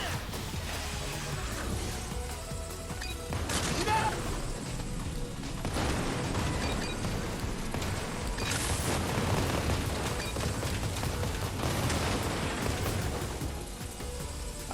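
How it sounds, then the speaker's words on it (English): Explosions in the video game Mega Man 11 make low booming bursts layered over steady game music and effects, with a few heavier blasts rising out of the dense mix at a moderate level. "Feel the explosion?"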